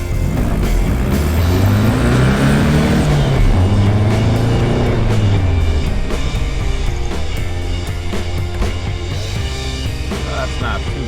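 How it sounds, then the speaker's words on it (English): A 1965 VW Beetle accelerates hard across a football field, its engine loud and close, revving up through rising gear sweeps before settling into a steadier drone, with no talking. "we'll accelerate up to the 50-yard line as hard as we can"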